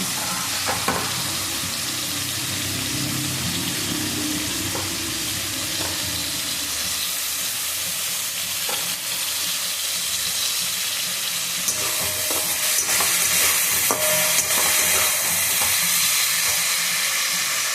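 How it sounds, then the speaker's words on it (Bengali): Shrimp stir-fried with cauliflower stems in a pan gives a steady, close sizzle with stirring scrapes and bursts of steam throughout, with no talking. "চিংড়ি মাছ দিয়ে এটা নাড়াচাড়া করছি।"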